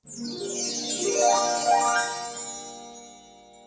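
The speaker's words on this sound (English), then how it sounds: "this sound always seems to pick up my mood. Chime time." A bright chime effect rings out as a cascade of bell-like tinkling tones, swelling quickly, sustaining, and then fading out over several seconds, loud and alone.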